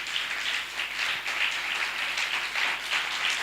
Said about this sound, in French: Est-ce qu'on peut acclamer le Seigneur encore?